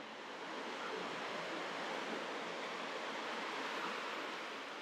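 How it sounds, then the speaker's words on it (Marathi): Small, gentle sea waves wash onto a beach at Havelock Island at sunset, a steady soft hiss of surf with no distinct breaks, fairly quiet and continuous with no voices. "आणि हे लाट बघू शकता, एकदम छोटू"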